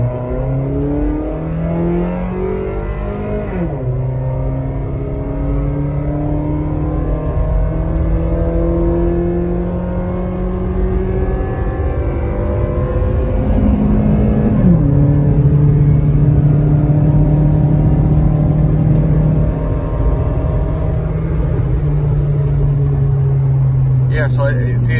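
A car accelerates hard from a pull at a car meet, its engine note climbing steadily through two gear shifts, loud and close from inside the cabin, with people talking over it.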